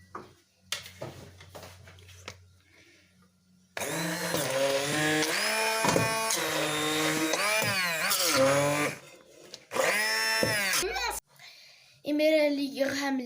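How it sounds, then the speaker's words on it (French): A food processor's motor whirs as it mixes butter for Algerian shortbread baklava dough, running in several loud bursts with brief pauses between them. "je vais mettre 2 paquets de beurre et je vais mélanger avec le robot"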